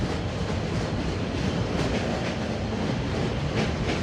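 A train rumbles steadily past close by, with a continuous heavy roar and faint rhythmic clatter of wheels on rails, loud and unbroken throughout with no talking.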